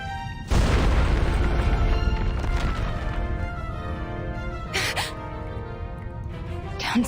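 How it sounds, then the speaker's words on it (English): Explosion in the video game Reverse 1999: a loud, sudden blast at the start, then a sustained rumbling roar with scattered bursts under droning game music. "Is that an explosion?"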